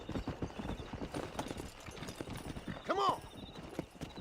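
Horse hooves gallop in the video game Red Dead Redemption, a quick rhythmic clip-clop that carries throughout, with a short whinny midway and a voice shouting briefly over it.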